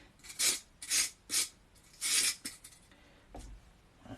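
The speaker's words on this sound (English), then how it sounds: "Who do you think you'd be watching me peel carrots this afternoon?" A vegetable peeler scrapes down a carrot in four or five quick rasping strokes, close and crisp, with short pauses between them and no talking.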